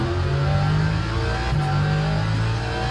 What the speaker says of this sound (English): Also, the Lexus itself as a car is very loud.